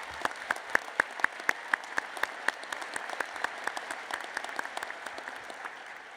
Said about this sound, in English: Let us take a moment to recognize them with a heartfelt round of applause for their remarkable